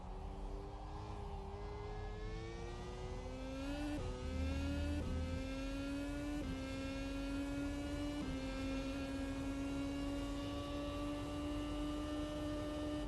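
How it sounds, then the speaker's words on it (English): Racing car engine in rFactor 2 screaming up to its 18,000 rpm rev limiter, steady high-pitched whine bouncing off the limiter with a few upshifts, loud and continuous with no talk. "running into the rev limiter there because these engines only revved out to 18 grand"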